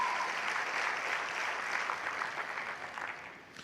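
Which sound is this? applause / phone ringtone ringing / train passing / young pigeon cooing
applause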